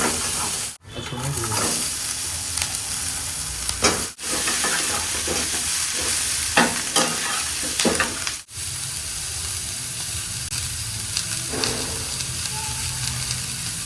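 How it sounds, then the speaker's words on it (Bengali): Garlic coated in soy sauce fries in a pan over a gas flame, a steady close sizzle with repeated stirring scrapes and a few brief breaks in the sound. "তো রসুনটাকে সামান্য একটু সস মাখিয়ে নিয়েছে, সোয়া সস।"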